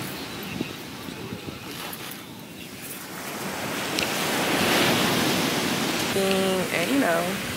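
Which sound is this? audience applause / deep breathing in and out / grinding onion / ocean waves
ocean waves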